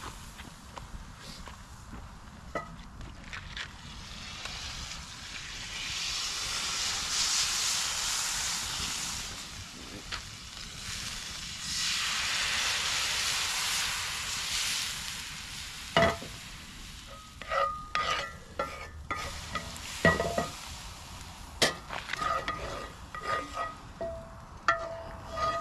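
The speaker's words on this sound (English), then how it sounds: "I gotta clean the pot, the cast iron, as everyone who does cast iron apparently swears by. So I'm gonna do the steam method." A hot cast iron skillet over a campfire is steam cleaned, with loud hissing and sizzling bursts that swell and fade, followed by scraping, clanks and handling knocks outdoors.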